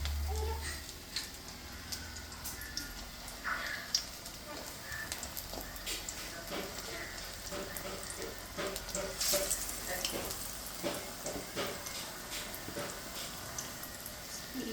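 Steady, quiet sizzling of food frying in hot oil in a home kitchen, with a continuous crackling hiss throughout and faint occasional clinks, while a voice speaks softly at times.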